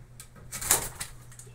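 Pigeons of an old white lineage cooing softly at a loft, a brief low coo with a faint wing flutter, fairly quiet and close, with no talk.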